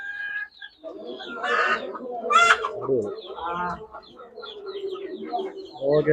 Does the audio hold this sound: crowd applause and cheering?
no